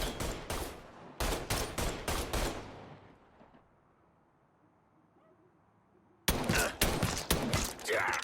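Bursts of gunfire in the Mafia III video game: rapid volleys of loud shots crackle for about three seconds, fall into a quiet lull with faint ambience, then a fresh barrage erupts near the end.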